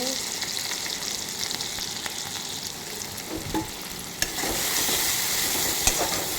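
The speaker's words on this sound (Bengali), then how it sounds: "এগুলোকে নেড়ে চেড়ে একটু ভাজা হয়ে গেলে" Chopped onion, garlic and ginger sizzle in oil as a spoon stirs them, with occasional clicks against the pan.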